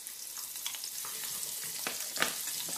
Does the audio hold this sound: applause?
no